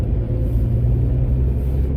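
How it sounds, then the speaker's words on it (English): Steady low vehicle rumble on a winding mountain road, US 129 Tail of the Dragon, as a car closes in from behind; engine and road noise hold continuous and fairly close with no clear rise. "Now we got a car coming up behind us"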